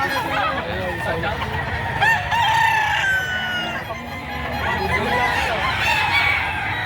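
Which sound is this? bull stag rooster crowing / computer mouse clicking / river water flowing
bull stag rooster crowing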